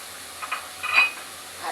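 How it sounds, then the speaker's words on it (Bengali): Nuts frying in ghee in a pan give a soft, steady sizzle, broken by a few light scraping stirs. No voices. "এগুলো আমি একটু ঘি দিয়ে ভাজা নেব।"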